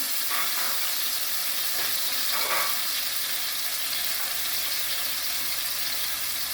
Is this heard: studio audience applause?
no